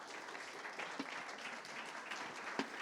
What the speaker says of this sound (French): vous pouvez applaudir nos intervenants